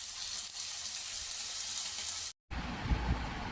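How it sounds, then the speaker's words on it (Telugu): Chopped green chillies fry in a hot pan with a bright, continuous hiss of sizzling oil. The sound breaks off briefly, then returns with a lower, bubblier crackle, close up and with no voices. "మిర్చి కట్ చేసుకొని వేసుకోవాలి ఫ్రెండ్స్. మిర్చి కొంచెం వేగాలి."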